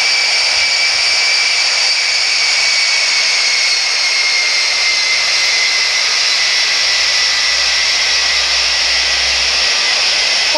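A Vietnam Airlines jet, an A350-900 or 787-9, taxiing to runway 29 left in the Infinite Flight simulator, a loud steady engine whine and roar holding constant throughout.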